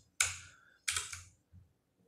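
Typing on a T-Dagger Corvette mechanical keyboard with blue switches: a few sharp, loud clicky keystrokes in quick bursts, close up, separated by brief silences.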